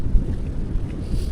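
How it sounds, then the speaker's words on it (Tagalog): Strong wind buffets the microphone outdoors in a Philippine province, a steady low rumbling roar that holds without pause from start to finish. "Sobrang lakas ng hangin."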